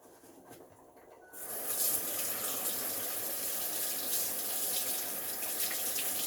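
Water gushes steadily from a kitchen tap over a knife being washed, starting abruptly after a brief quiet moment and then running loud and continuous to the end.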